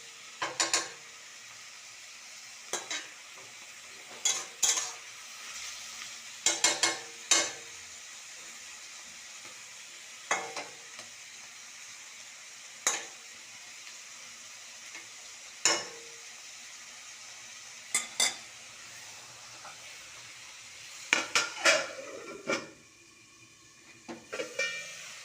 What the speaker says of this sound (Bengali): মিডিয়াম লো ফ্লেমে আমি এটাকে ভালো করে ঢাকা দিয়ে দিয়ে ভেজে নেব যতক্ষণ না মাংসের জল শুকাচ্ছে